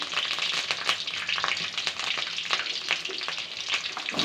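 Curry leaves and chillies sizzle steadily in hot oil, a dense crackling hiss that stays close and even throughout, with no voices.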